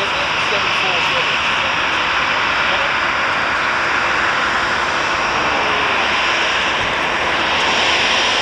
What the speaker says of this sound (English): Oh, yeah, 747.